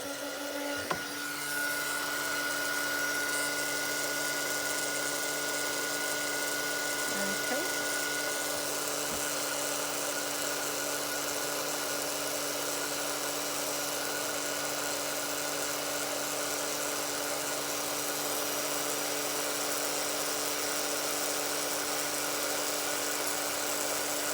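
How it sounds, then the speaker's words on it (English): A heat embossing tool runs with a steady electric whirring hum at moderate volume, like a small blower motor, with a faint click near the start. "excuse the noise while I just now heat emboss this"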